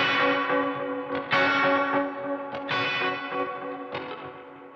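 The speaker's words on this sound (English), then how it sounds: "that's going into a H delay. If you turn off this one, see what it's doing. Ping pong, 90 milliseconds, just adding that kind of classic 70s slapback" Electric guitar chords in a 70s style are run through a ping-pong slapback delay set to 90 milliseconds in Ableton Live, with bright, ringing repeated strums and a short echo trailing each attack.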